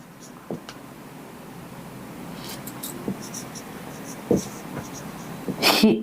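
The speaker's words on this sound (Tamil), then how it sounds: "இங்கே பாருங்க நான் இங்கே எழுதுகிறேன்" Handwriting scratches come in faint, intermittent strokes, a few sharper scrapes standing out against a soft background hiss.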